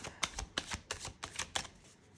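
Tarot cards being shuffled by hand, a quick run of crisp, close riffling snaps in an uneven rhythm, with no talking over them.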